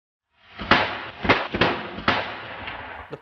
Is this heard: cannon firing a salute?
yes